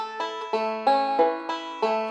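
A banjo loops a short fill lick from the fourth measure of Tom Dooley, bright plucked notes ringing in a quick, even rhythm of picked bursts, repeated several times up close with no talking.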